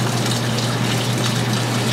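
Rice noodles being lowered into a bowl of cold or room-temperature water, giving a steady, close rushing and sloshing of liquid that runs unbroken for the whole stretch with no voices over it.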